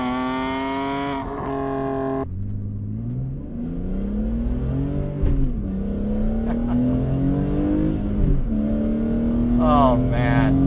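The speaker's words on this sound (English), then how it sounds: "I'm dying to hear this intake and this exhaust setup" A BMW E46 M3 ZCP track car pulls hard on the road, its intake and exhaust revving up through the gears with rising engine tones and brief dips at each shift, loud and close from inside.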